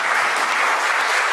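A brief, steady burst of audience applause rings out at an election hustings in Tring, with many hands clapping together at an even volume.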